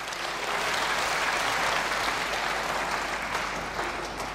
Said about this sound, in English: Give them another good clap before they leave.